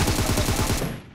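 Rapid automatic gunfire in the video game PUBG, a close, loud burst of about ten evenly spaced shots that stops abruptly.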